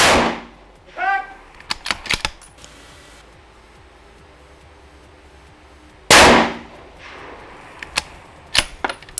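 Sharp rifle shots at a shooting competition stage, a few loud cracks spaced apart, the strongest near the middle, with voices and range commands around them.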